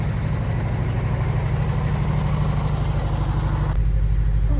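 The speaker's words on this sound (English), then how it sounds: "How to drive the biggest fire engine in the world." A huge Oshkosh fire engine idles close by, a steady deep diesel rumble with a fast, even low pulse that shifts to a slightly heavier, fuller drone near the end.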